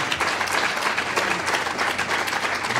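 Steady audience applause at a talk, a dense continuous patter of many people clapping at even loudness from start to finish.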